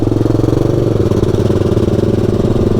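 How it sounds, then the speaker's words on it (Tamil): A motorcycle engine runs steadily on a safari road in Africa where zebras cross, with a close, loud, pulsing mid-pitched drone and a faint mechanical clatter that holds for the whole stretch. "இவன் வண்டி சவுண்டுக்கே எல்லாம் செதறி ஓடுது பாவம்."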